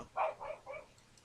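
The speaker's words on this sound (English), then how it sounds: "Because Lafayette is barking at the back door." A dog barks at the back door of a house, three quick muffled barks from another room, faint and indoors.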